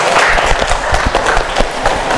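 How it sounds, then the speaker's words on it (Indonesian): Classroom applause for a student group in a histology lesson, a short burst of dense, lively clapping from many hands, loud and close. "Tepuk tangan dulu untuk kelompok ini."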